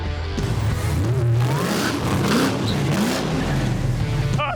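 A Ferrari F6 build's engine revs hard and loudly up close, rising and falling through throttle sweeps with a deep snarling tone, and faint voices can be heard under it.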